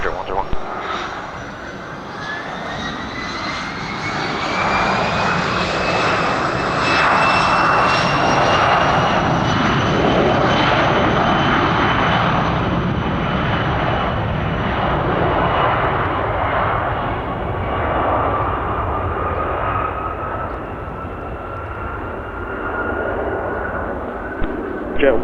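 Private jet taking off from runway 26 left at Spirit of St. Louis Airport in low-level windshear, a loud sustained engine roar with rising whine that builds and slowly fades as it departs.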